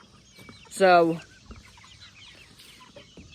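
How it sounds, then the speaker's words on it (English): A rooster in a flock of meat birds gives one loud, close, harmonic squawking cluck lasting about half a second, followed by faint scattered clucks and a short spoken word. "We got some pretty good sized roosters in here though."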